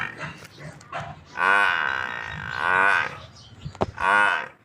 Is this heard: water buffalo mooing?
yes